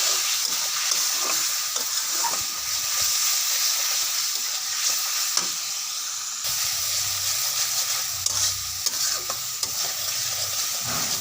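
Masala paste for a mola fish curry with ivy-like snake gourd fries with a splash of water, a dense steady hiss and sizzle with occasional spoon scrapes, close up and unbroken by speech.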